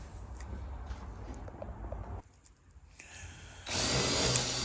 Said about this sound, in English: So I'm just countersinking here.